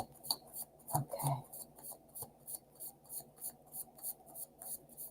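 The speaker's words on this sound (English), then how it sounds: "This is a good shuffling deck." A tarot card deck being shuffled by hand, a series of soft, rhythmic riffling and rubbing bursts repeating every half second or so, quiet and close.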